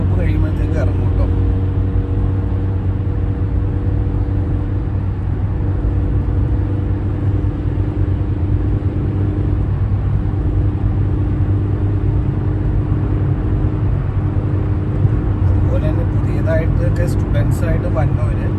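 Steady road rumble and engine drone from inside a car on a busy UK motorway (M8 toward the airport) in heavy Sunday traffic, continuous and loud throughout, with faint higher noise near the end.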